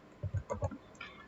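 Keys on a computer keyboard are tapped to enter a network route command, a short close burst of about five quick, soft clicks followed by a faint tick.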